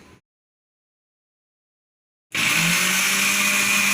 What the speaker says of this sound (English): Now we will give it a blend.